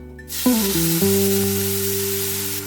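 Tomato paste is stirred into a hot pan on a low flame, setting off a loud, steady sizzle that rises quickly and holds, with a low humming tone running underneath.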